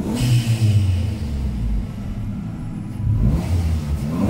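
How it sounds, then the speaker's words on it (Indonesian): A modified Proton Savvy's engine revs up and down from inside the cabin, a deep rumbling exhaust swelling loudly, easing off, then climbing again near the end. "jom kita dengar bunyi exhaust sikit daripada dalam"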